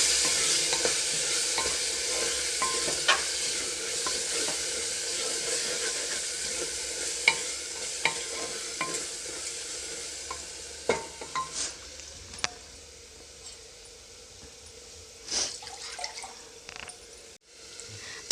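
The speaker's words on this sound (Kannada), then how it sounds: "ಮಸಾಲೆನ ಹಾಕ್ಕೊಂಡ್ಮೇಲೆ ಒಂದು ಸರಿ ಚೆನ್ನಾಗಿ ಮಿಕ್ಸ್ ಮಾಡ್ಕೊಳ್ಳಿ" Coriander and cumin powder frying in a pan while being stirred, a steady sizzle with soft scraping and clinks of the spoon throughout, no voices.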